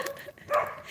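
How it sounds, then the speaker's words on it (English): A single dog barks briefly somewhere off to the side, a short faint burst with no talking over it. "Look, I'm even scared of dogs barking."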